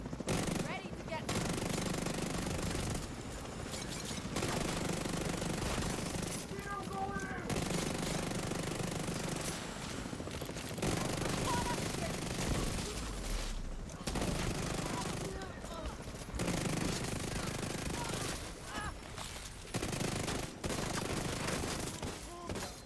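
Rifle gunfire in The Division 2 video game, long rapid automatic bursts separated by short pauses, dense and fairly close, with voices talking over the shooting.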